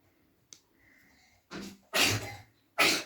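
A sneeze from a daughter at home, a short sharp burst following a fainter breathy sound, then another loud forceful burst at the end, close and clear with no talking.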